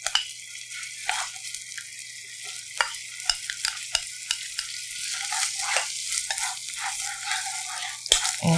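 Minced garlic and sliced green onion frying in a pot for tofu stew, a bright continuous sizzle close by with frequent scraping stirs and small clicks, no talk.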